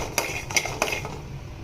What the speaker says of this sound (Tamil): அந்த பாதாமை 20 ஆட் பண்ணி லைட்டாக வறுத்துக்கிறோம்.